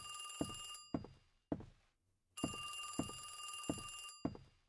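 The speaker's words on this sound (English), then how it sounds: "Phone." Telephone ringing in a pizza shop video game: a bright electronic bell trilling in repeated bursts with short gaps, loud and close, with soft thumps between rings.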